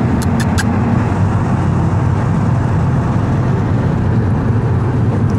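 Steady road noise from a manual-transmission car cruising on a road trip, a continuous low engine and tire rumble filling the whole stretch with no talk.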